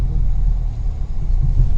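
A car's engine rumbles low and steady while being parked among other vehicles at a temple lot, a close, continuous drone with slight swells and no voices.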